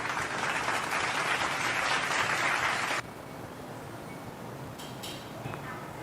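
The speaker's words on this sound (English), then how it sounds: "I'll give you a virtual clap" A burst of dense recorded applause plays for three seconds, then cuts off abruptly, leaving faint background noise with a couple of small clicks.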